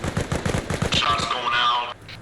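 Rapid bursts of gunfire from a convoy combat video game, a quick string of sharp cracks followed by a sustained rattling volley lasting about a second, close and loud, with faint voice chatter mixed in.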